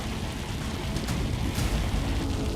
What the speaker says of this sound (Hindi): सिवनी में भी लगातार हो रही बारिश से हाल बेहाल है